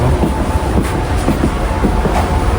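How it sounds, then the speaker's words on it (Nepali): A small diesel train pulls into Otaru station in Japan, a loud close rumble of engine and rolling wheels with steady rhythmic clatter throughout. "यो चाहिँ छोटो मिठो सानो ट्रेन रहेछ।"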